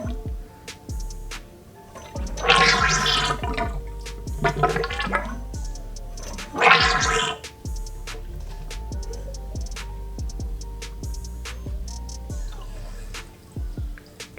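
Oil bubbling and gurgling inside a Honda XR 200 dirt bike front fork as it is pumped during a seal replacement, coming in several loud wet bursts separated by quieter pauses, close up.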